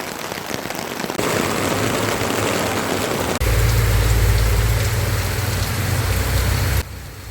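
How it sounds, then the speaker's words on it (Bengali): Steady heavy rain pours down without pause, the roar growing fuller and louder partway through before easing slightly at the end, with no voices heard. "বেরোনোর সময় বৃষ্টিটা শুরু হতে হলো"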